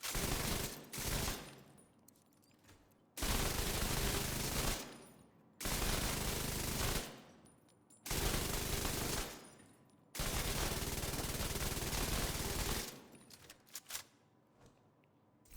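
Bursts of rapid automatic fire from a light machine gun used as the main weapon in a shooter video game, four long loud sustained volleys separated by short pauses, with no talking.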